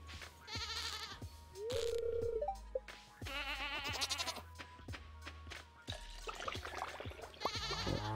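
Sheep in the Stardew Valley farming game bleat several times in short electronic calls, mixed with game chimes and effect sounds over a steady background tone.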